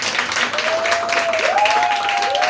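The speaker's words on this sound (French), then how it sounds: "je vous propose d'applaudir donc Lorenza, qui est là aussi." Audience applause at a literary conference, a steady dense wash of clapping held at an even level throughout, with a faint sustained tone running through it.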